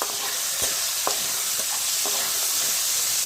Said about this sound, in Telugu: ఆవాలు పోపు దింపులు అయితే యాడ్ చేస్తున్నాను చూడండి పచ్చెనపప్పు కరివేపాకు యాడ్ చేశాను